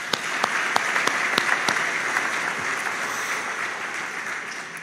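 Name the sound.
graduates applauding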